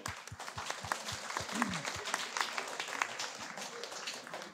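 An audience applauding at a round-table conference on innovation and energy, a dense wash of clapping from a room of people with a few low thumps and faint voices mixed in, steady for several seconds.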